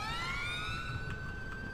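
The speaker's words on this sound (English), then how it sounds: "I can hear the sirens, so they're obviously around the corner somewhere." Police sirens in the video game GTA 5, a steady wailing tone sweeping upward with a second siren layered over it, moderately distant and continuous without talk.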